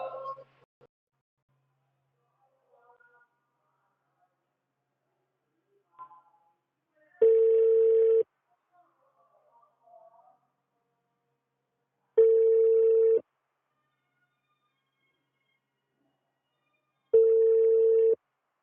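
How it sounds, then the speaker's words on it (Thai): A phone's ringback tone sounds in three long, evenly spaced beeps about five seconds apart, clear and steady, after faint scattered sounds and brief talk at the start. "งั้นเราโทรหาคิมใหม่"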